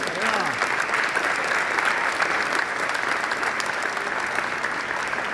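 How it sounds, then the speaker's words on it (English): An audience applauds a singer at an orchestra performance, with dense steady clapping that holds loud and even throughout, some voices faintly mixed in. "Let's give her a big round of applause"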